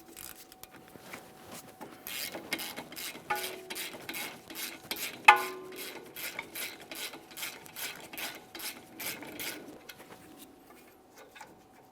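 A 14mm ratchet loosening the brake caliper slider mounting bolts on a 2008-2017 Mitsubishi Lancer, clicking in a long steady series of close, crisp ratchet ticks with a sharp metallic knock partway through.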